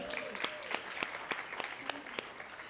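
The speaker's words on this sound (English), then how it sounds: "round of applause for that" Audience applause at a healthcare conference session in the Cayman Islands, a short burst of scattered claps with a few cheers and voices mixed in, moderately loud and close.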